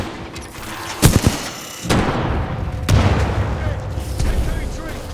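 Explosions and rapid gunfire in the video game Titanfall 2 after a frag grenade is thrown, with sharp booms near the start and middle, bursts of shots and battle noise, and voices shouting over the combat.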